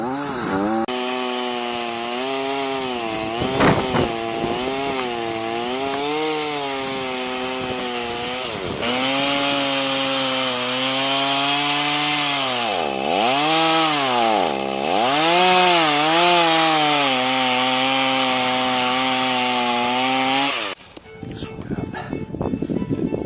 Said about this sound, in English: I took the chainsaw and dug in as deep as I could go